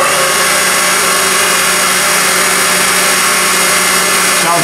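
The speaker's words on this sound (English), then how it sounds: "I'm just going to do a manual run with the spindle" An Eldorado M75-1046 deep hole gun drilling machine spindle runs at high speed, producing a loud, dense, steady mechanical whir and hum that stays constant throughout.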